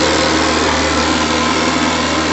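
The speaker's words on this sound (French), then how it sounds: "Je vais faire un très gros échappement." A model steam speedboat's boiler lets off a big exhaust blow-off at close to 10 bar, a loud, steady, broadband hissing roar that stays unbroken for the whole stretch, with no talk.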